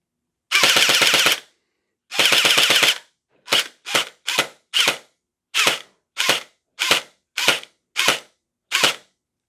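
An upgraded Splatrball gel blaster fitted with metal gears and a strong spring fires repeatedly, first in two long rapid bursts, then in a series of separate sharp single shots, loud and close, with no talk.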